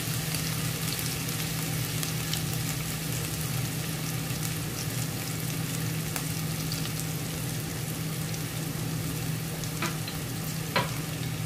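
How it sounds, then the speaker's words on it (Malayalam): Ginger and garlic frying in a tablespoon of vegetable oil, a steady close sizzle with occasional crackles and a faint stirring clink, alone without speech. "ഇനി നമുക്ക് ഇഞ്ചി വെളുത്തുള്ളി ചേർത്ത് കൊടുക്കാം"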